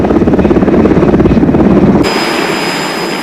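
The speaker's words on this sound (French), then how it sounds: "Cet hélicoptère de transport lourd, d'allure frustre, a été utilisé aussi bien pendant la guerre qu'en temps de paix." A heavy transport helicopter, used in Vietnam and on civil works, thunders close and loud with a fast rhythmic rotor thump over a dense engine roar, then drops abruptly to a steadier, quieter turbine drone with a high whine.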